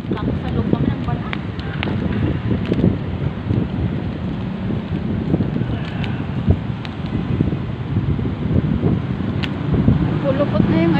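Strong wind buffets the microphone in a constant low roar, with rustling gusts throughout, in Lipa City.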